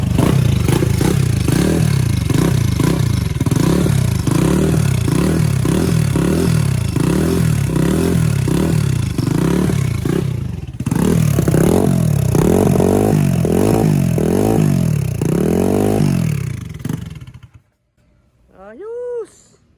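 A Raider motorcycle fitted with a turbo 44mm carburetor starts for the first time and runs loud and steady with rhythmic pulsing revs, then cuts out abruptly near the end, leaving a few faint sounds.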